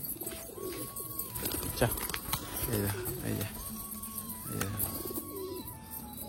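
A trained racing pigeon cooing in soft low repeated phrases, close by, with someone talking over it and a few light wing flutters and taps around it.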